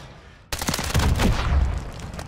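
Loud close automatic gunfire in Call of Duty Modern Warfare 3, bursting in abruptly after brief quiet and continuing as a dense, sustained rattle of shots with heavy low-end impact.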